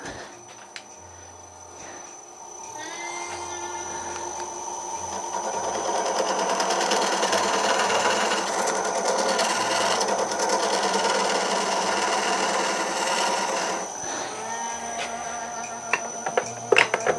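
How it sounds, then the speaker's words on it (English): A skew chisel cuts natural edge mesquite spinning on a wood lathe, making a continuous close whirring buzz that rises as the tool engages the wood and eases off near the end. "I'm using a skew on the side"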